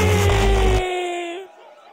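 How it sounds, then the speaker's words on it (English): A crowd at a drum and bass event roars and screams loudly for about a second, then the noise cuts away and a sustained tone fades out. "Somebody scream!"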